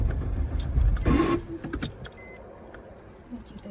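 A Porsche with a manual gearbox cranks and fires up on a racetrack, a short burst of starter and engine noise that settles into a quieter idle, with some key jingle nearby.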